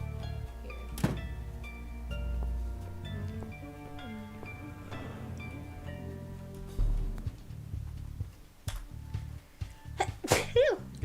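A sneeze bursts out once near the start amid a video game scene with background music and other game sounds, followed later by a few thuds.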